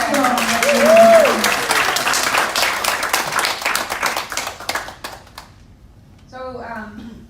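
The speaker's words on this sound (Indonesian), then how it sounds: "let's give the leaders a very big hand" An audience gives the leaders a big round of applause, dense clapping that is loud at first and then thins out and fades, followed by a brief stretch of speech at the end.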